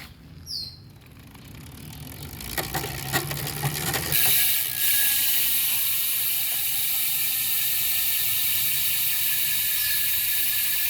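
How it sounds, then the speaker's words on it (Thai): Freehub ratchet of a Visp SL 50/50 carbon wheel on a Merida Reacto 400 road bike, a rapid steady buzzing click running continuously once the wheel spins freely, preceded by brief handling knocks, close and fairly loud with no talk. "เดี๋ยวไปลองฟังเสียงมู่ดูครับ"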